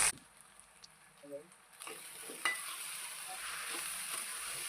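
Grated raw mango is stirred into garlic frying in oil for a pickle, a soft sizzle that grows into a steady, louder fry with faint scraping stirs, heard alone without talk.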